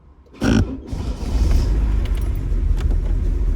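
A Chevrolet Monza running on ethanol, choke pulled after two cold days parked at the beach, cranks briefly and catches, then settles into a loud, rough, rumbling idle close by.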